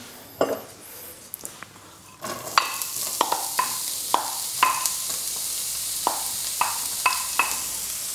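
Onions sizzling in olive oil in a hot pan, a steady bright hiss that swells after a quiet start, with regular knocks of a utensil stirring against the pan, close and without talk.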